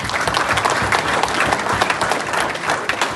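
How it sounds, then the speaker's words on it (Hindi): A crowd at a large gathering of Indians in Canada applauds loudly and continuously, dense clapping filling the brief moment. "इस पर ताली बजा दो भाई को"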